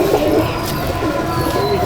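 A Madrasi pigeon coos loudly at close range inside a champion loft in Hooghly, its rolling calls continuous over faint room noise.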